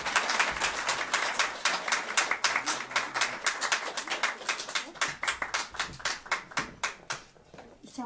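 Audience applause at a literary contest awards ceremony, a brisk run of many hand claps that thins out and slows into scattered, louder individual claps toward the end.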